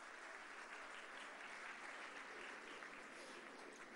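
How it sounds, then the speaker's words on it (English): An award ceremony audience applauds at a film festival closing prize distribution, a steady, dense clapping that continues throughout and sounds somewhat distant and faint. "I think we should give them a loud round of applause so that they can hear us wherever they are"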